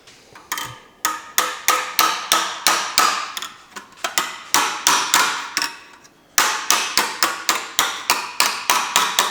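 Steady, ringing hammer strikes on the sheet-metal rear body of an Austin J40 pedal car under restoration, roughly three per second, pause briefly partway through and then resume at the same pace; close and loud.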